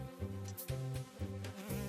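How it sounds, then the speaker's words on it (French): An animated cartoon bee buzzes near the listener in repeated droning bursts, each lasting about half a second and separated by brief gaps, loud and alone without speech. "Ah non, l'abeille!"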